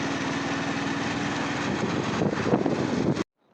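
A motorbike engine hums continuously up close while riding on a road through a factory area off Main Faisalabad Road, its buzz swelling slightly before cutting off abruptly near the end.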